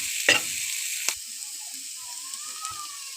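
Potatoes fry in hot oil in a wok, a steady bright hiss of sizzling with a couple of sharp clinks from a utensil stirring, close and even throughout.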